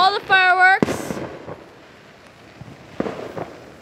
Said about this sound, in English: there are all the fireworks